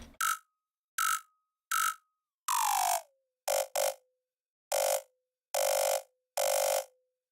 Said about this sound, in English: I can frequency shift one up and the other down. Now this is going to sound terrible